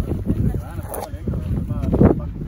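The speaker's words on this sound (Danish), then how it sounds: "det blæser helt sindssygt meget" Strong wind roars and buffets the microphone during the Broløbet 2023 running race, a loud, continuous low rumble with gusty surges. Muffled voices are partly heard beneath it.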